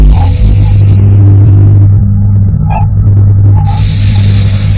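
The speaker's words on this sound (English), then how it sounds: "This is the sound of the solar wind as it abruptly slows down from the pressure of interstellar gases" A Voyager 1 recording of the solar wind slowing at the termination shock, rendered as a loud, steady low rumble with hissing bursts and brief tonal blips above it.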